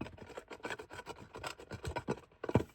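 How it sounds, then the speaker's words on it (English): A hand tool scrapes back and forth through hard soil while a water line from a hand-dug well is being buried, making rapid, continuous gritty rasping strokes up close. "Just scraping back and forth to loosen it up."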